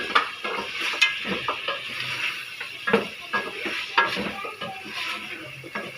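Potatoes tipped into a pot of cooked chicken and stirred, giving a steady close-up run of scraping, clinking and soft sizzle with repeated stirring strokes, no voices.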